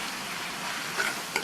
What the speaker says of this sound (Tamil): தேங்காய் விழுது சேர்த்துட்டு நல்லா ஒரு தடவை எல்லாத்தையும் மிக்ஸ் பண்ணி விட்டுக்கணும்